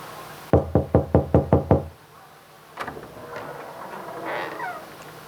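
Seven quick, loud knocks rap on a door in an even burst during a stage skit at an annual cultural fest, followed by quiet room noise and some faint movement.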